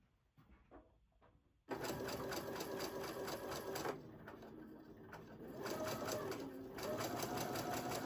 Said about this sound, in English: Making sure I sew right down to this point.